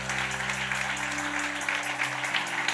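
A church congregation applauds for the Lord during a sermon, a continuous, even roar of clapping over sustained instrumental tones.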